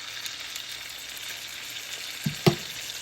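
Steak frying in a pan, a steady broadband sizzle running throughout at close range, with two brief clanks or pops near the end as it settles after being turned over.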